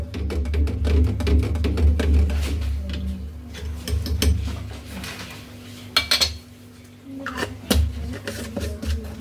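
Metal spoon clinking and scraping repeatedly against a pot while Rajasthani kanji drink is stirred, busy and close over a steady low hum.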